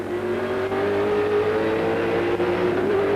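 A car in the 1997 Amscar series accelerates hard on a circuit, its engine a loud, close, rising drone that holds steady over the whole stretch.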